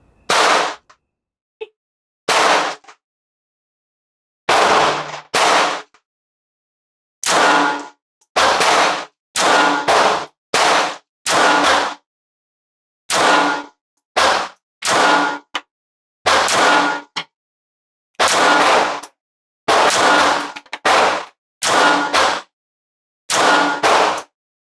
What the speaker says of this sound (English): Let's see how the 80X Cheetah compares now. First shot, double action.